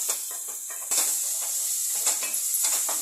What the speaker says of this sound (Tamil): கொஞ்சம் நேரம் வதங்கட்டும்